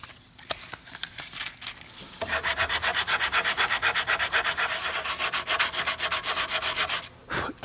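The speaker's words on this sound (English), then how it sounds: "Blow it off frequently, or rotate sides so you got a fresh piece, and it'll make sanding much easier." Sandpaper rubbed over a wooden guitar neck clamped to a table, steady rhythmic back-and-forth scratching strokes, close and fairly loud, starting softer then continuous for several seconds before a brief pause and resumption.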